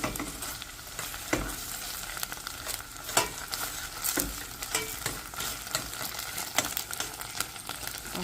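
Tomato paste and onions frying in oil crackle and sizzle up close, with occasional louder stirring knocks against the pan over a continuous spitting hiss.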